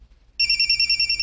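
A telephone rings after a brief silence, a bright electronic trill pulsing in quick regular bursts, close and loud, with no voices.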